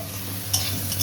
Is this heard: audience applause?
no